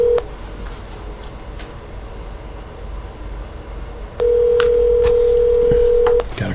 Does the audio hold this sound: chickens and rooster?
no